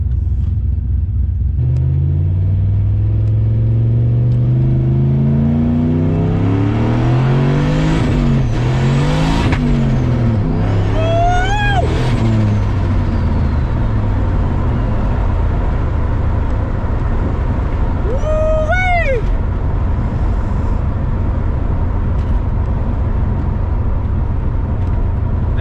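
A Pontiac GTO engine revs hard and accelerates through short-shifted gears, a loud, close rumble that rises and falls several times, with sharp rising whines between shifts.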